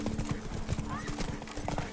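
A horse gallops in The Witcher 3 video game, its hooves beating in quick, rhythmic clip-clops close by, with a whinny partway through and speech underneath.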